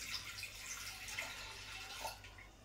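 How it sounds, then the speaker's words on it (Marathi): A glass of water is poured into a pressure cooker sitting on a lit gas stove in a home kitchen, giving a brief, quiet trickle and splash with no voices. "एक ग्लास पाणी घालूया कुकरमध्ये."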